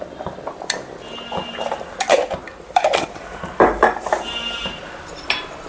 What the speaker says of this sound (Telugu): కొంచెం ఉప్పు వేస్తున్నాను. కొంచెం చింతపండు గుజ్జు వేస్తున్నాను.